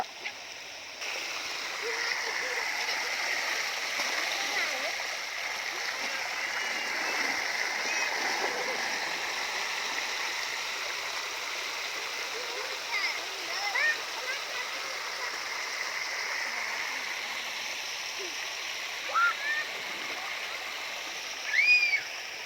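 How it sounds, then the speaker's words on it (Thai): Strongly flowing stream water rushes steadily in a broad, even hiss for the whole stretch, with a few short splashes or bursts of sound near the end. "เสียงน้ำไหลตัดตาเลยพี่น้อง"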